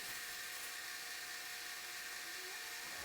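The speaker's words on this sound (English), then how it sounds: "So I begin sanding it with a rough flapping wheel." A rough flap wheel sanding an exotic wood wand, a steady high-pitched whirring grind that holds constant throughout, fairly faint with no talking.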